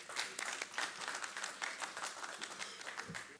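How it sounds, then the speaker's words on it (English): An audience at a conference claps together in steady applause, moderately distant and fairly quiet, with no voices over it. "with a warm round of applause."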